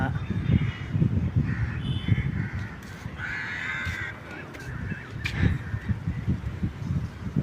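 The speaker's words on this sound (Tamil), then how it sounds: "அப்படியே மேலே பாருங்க, இங்கே ஒரு அண்டங்காக்கா." A jungle crow gives repeated harsh caws at moderate distance, mixed with people talking and outdoor background noise.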